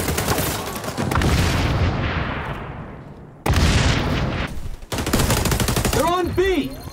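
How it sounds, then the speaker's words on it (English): Gunfire and a grenade blast in the shooter game XDefiant, with loud dense bursts of shots, a long decaying boom, then more rapid firing with a voice calling out near the end. "In trouble! Chucking grenade!"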